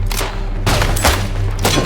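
Artillery pounds the Italian countryside on the World War 1 front in the video game Isonzo, with a rapid series of heavy booms and crackling blasts rolling over one another in a dense, continuous barrage.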